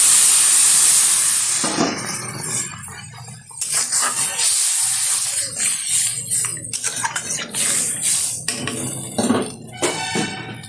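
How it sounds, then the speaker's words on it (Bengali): Water is poured into a hot pan of mushroom and potato curry with egg, starting as a loud hissing rush of steam that fades into bubbling, clinks and stirring knocks against the pot. "ভালোভাবে কষানো হয়ে গেছে, দিয়ে দিচ্ছি পরিমাণ মতো জল।"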